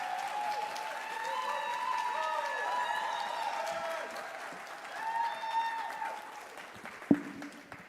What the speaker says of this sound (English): Please give her a round of applause as she comes.